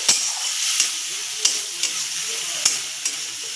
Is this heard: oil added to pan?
yes